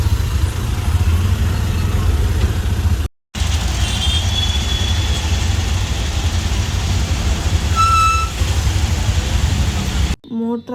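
Dense road traffic near Tin Factory on the way to Whitefield: a steady, loud low rumble of idling cars and trucks with faint horn-like tones, a brief dropout partway through, and voices in the mix.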